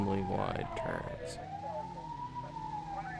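Wailing ambulance siren in the PS1 game Grand Theft Auto, a rising and falling synthesized tone sustained over engine rumble and game noise, with a voice speaking over it.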